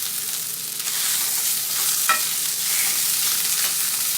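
Italian sweet sausages sizzle steadily in a cast iron pan, a constant close frying hiss with a faint stir or scrape partway through and no talk.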